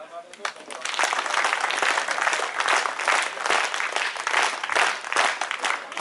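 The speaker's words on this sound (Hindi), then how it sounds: "अब थोड़ा सा आवाज आई तालियों की।" An audience at a school annual function in Ranikhet bursts into dense, sustained applause, many hands clapping loudly and steadily from start to finish, with a voice faintly audible at the very beginning.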